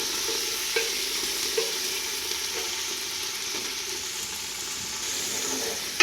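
Lubia beans fry in a pan with a steady, close sizzle and occasional faint stirring clicks, continuous throughout with no talking.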